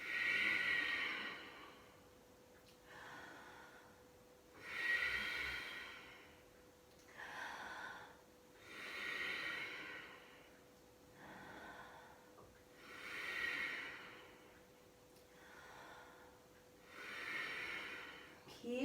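Slow, regular yoga breathing repeats several times: an audible inhale through an open mouth, then a breathy exhale through the nose, close and moderately loud, with a faint steady hum underneath.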